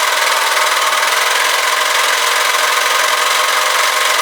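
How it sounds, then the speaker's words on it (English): A serger overlocker runs steadily while stitching fabric, a loud, continuous high-speed mechanical whir with no pauses or voices. "present your fabric to your machine and serge as normal"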